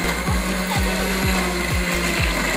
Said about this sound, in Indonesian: Kita blender sampai halus bumbunya.